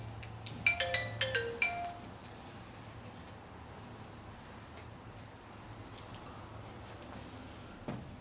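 A phone rings with a short burst of bright electronic melody tones in a quiet room, then falls away to low background hum, with faint ticking clicks scattered afterward.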